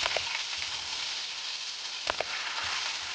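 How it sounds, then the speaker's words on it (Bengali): Cumin seeds, green chillies and curry leaves sizzle in hot oil in a pan, a steady loud crackling hiss with a few sharper pops. "এবার ওই তেলের মধ্যে জিরে, কাঁচা লঙ্কা আর কারি পাতা ফোড়ন দেব।"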